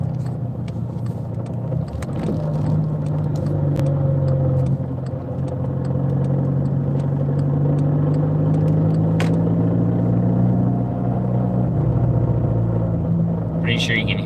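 A Volkswagen GTI's engine hums steadily with a low, constant rumble, with faint rattly, broadband noise riding over it while the car moves slowly, continuous and fairly loud throughout.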